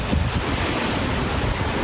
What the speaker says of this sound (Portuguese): O vento está muito forte, a água está ficando por todo lado.